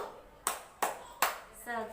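Three sharp, evenly spaced hand claps ring out in a quiet room during a school orientation chant, followed by a brief sung voice at the end.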